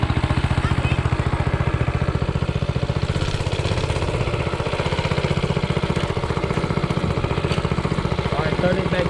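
A Predator 212cc engine on a motorized tricycle runs steadily up close, its loud, rapid chugging pulses holding an even rhythm through the whole stretch with no voices over it.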